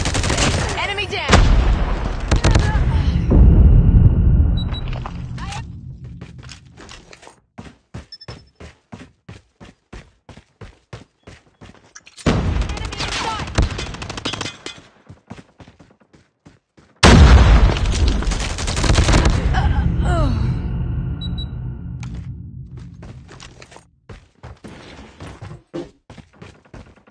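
Grenade blasts and rapid gunfire from the Call of Duty Mobile shooter game: two loud booming bursts, each trailing into a steady crackle of automatic shots, with a short lull between them.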